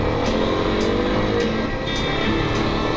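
Kawasaki KLX-300 dirt bike pulling away onto a sandy trail in Citrus Wildlife Management Area, a loud close engine drone with steady revving and faint periodic ticks, constant throughout.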